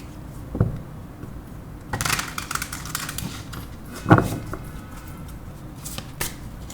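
Tarot cards are shuffled and drawn by hand in a few soft, papery bursts of riffling and slapping, close by and fairly quiet, with no talking.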